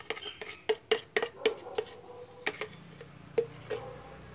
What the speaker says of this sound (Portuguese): vou colocar ele aqui numa vasilha